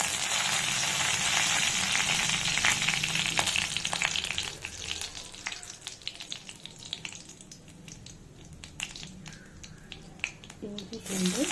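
Curry leaves hitting hot oil while cooking pea masala, a loud bright crackling sizzle with spattering pops that gradually calms to scattered crackles, with a voice talking over it.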